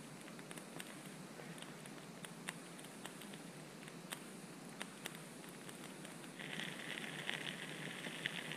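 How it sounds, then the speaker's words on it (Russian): Shashlik skewers with lard sizzle over an outdoor campfire at a winter bushcraft camp, a faint, steady crackle with scattered sharp pops and a brighter hiss rising near the end. "Потихоньку жарится шашлычок, переворачиваем."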